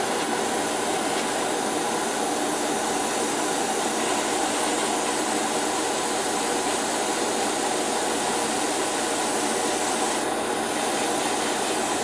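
Steady airbrush spraying paint during pre-shading of a 1/60 PG Unicorn Gundam model, a continuous airy hiss held evenly and fairly loud throughout, with no talking.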